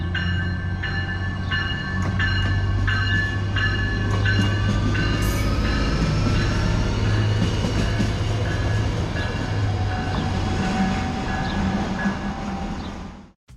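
A River Line diesel light rail DMU train towing a single passenger car passes at a station, a loud continuous engine rumble with rhythmic wheel clatter and squeal over the rails, fading out abruptly at the end.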